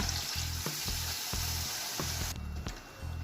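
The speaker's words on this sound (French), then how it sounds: "On remue tout ça." Chicken basquaise sizzles and fries steadily in a pan while a utensil stirs it, with repeated scraping knocks against the pan over a constant hiss.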